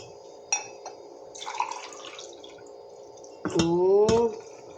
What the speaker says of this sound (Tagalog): So, ngayon, lalagyan natin siya ng tubig.